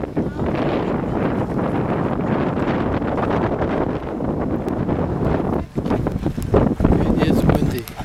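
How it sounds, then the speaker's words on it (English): Strong wind buffets the microphone in continuous roaring gusts, with brief lulls and bursts, while someone speaks beneath the noise. "It is windy."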